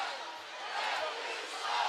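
A hockey arena crowd at a Jacksonville Icemen versus Greenville Swamp Rabbits game voices its displeasure at a call, a steady wash of booing and jeering from many people throughout.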